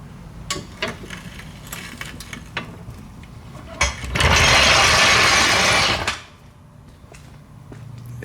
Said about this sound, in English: use the torque wrench to tighten my lug nuts